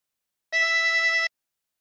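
A single clean harmonica note held for under a second with a gentle wavering pulse, alone against silence.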